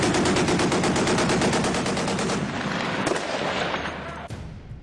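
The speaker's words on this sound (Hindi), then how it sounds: "शानदार सुपर रैपिड गन का मजा लीजिए।" Naval Super Rapid Gun firing a fast, evenly spaced stream of loud booming shots that gradually fades, ending with a final sharp report as echoes die away.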